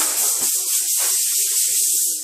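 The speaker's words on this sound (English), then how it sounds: "I'm gonna blow the dust off." Compressed air hisses steadily and closely as it blows sanding dust off the fender of a 2010 Honda Civic sedan, one continuous sharp rush lasting about two seconds.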